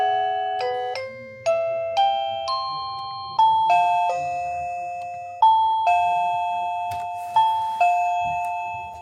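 A Reolink video doorbell chime plays a bright melodic sequence of about eight ringing tones, each struck note decaying into the next, loud and close with no talking.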